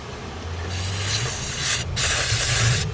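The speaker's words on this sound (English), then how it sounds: "we're gonna take some carburetor cleaner" Carburetor cleaner sprays from an aerosol can onto two spark plugs pulled from a 1999 Nissan Altima, two loud, sharp hissing bursts close up, the second longer, separated by a short pause.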